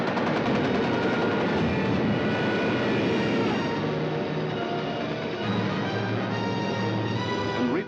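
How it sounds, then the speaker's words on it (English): German bomber aircraft over London in a WWII wartime scene: a loud, droning roar of aircraft engines mixed with rattling bursts of gunfire, dense and continuous throughout. "Some of the German bombers broke through London's defenses."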